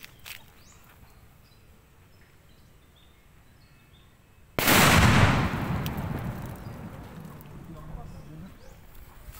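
A Super Pla Pla firecracker goes off with one loud, sudden blast after a quiet stretch, its crackling roar slowly decaying into noisy outdoor ambience.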